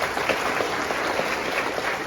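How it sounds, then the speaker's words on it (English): Audience at a Fordham career diversity and inclusion banquet giving a round of applause, steady dense clapping from many people, filling the room without a break. "Let's have one more round of applause for Dean Ball."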